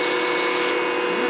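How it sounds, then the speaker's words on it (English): A wooden grip spins on a lathe while sandpaper is pressed against it, producing a steady, close, loud rubbing hiss that eases slightly partway through, with no voices. "Now all I gotta do is sand it down and I'll be good to go."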